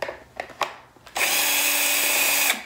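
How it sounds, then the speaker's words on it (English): Power drill whirring steadily for a little over a second while fastening a front license plate bracket onto a Tesla Model 3, preceded by a few light clicks and taps. "Take your drill one more time."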